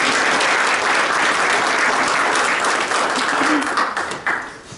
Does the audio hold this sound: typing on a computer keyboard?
no